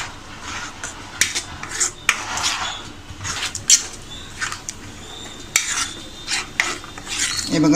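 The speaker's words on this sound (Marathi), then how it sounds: "छान असं ढवळून घेऊ पहिलं आपण" A spoon stirs palak paneer (spinach with paneer cheese) in a pan over medium heat, giving close, irregular scraping and clinking strokes against the metal, with short pauses between bursts.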